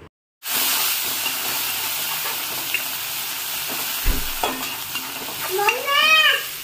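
Gram flour besan cooks with green chillies in a pan, frying with a steady loud sizzle and hiss as a spoon stirs and scrapes against it in short bursts.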